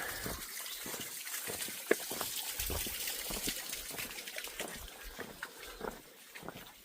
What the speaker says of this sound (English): sound of water you can hear. It's coming down a little stream.